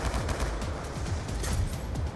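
Rapid, loud gunfire bursts in the video game Call of Duty Black Ops 2, a dense volley of repeated shots with no talk.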